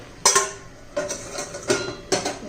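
A metal lid set down on a cooking pan of wild-bean vegetable curry, with four distinct clanks spaced apart, close and clear in a quiet kitchen.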